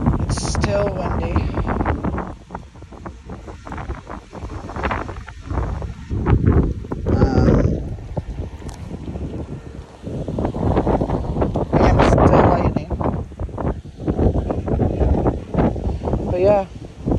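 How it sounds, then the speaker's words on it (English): Strong gusty wind buffets the microphone in the aftermath of Hurricane Idalia near a flooded dock, loud and continuous with surging bursts, while people talk at moments. "It's still windy."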